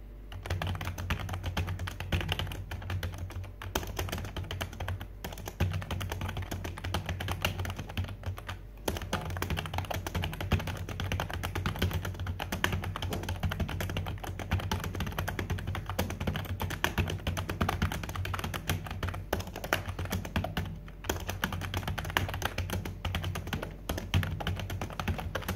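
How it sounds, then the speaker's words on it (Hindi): Fast, continuous typing on a computer keyboard during a typing speed test, a dense stream of close key clatter with brief pauses and no talk. "इसमें आज मैं टाइपिंग टेस्ट करने जा रहा हूँ।"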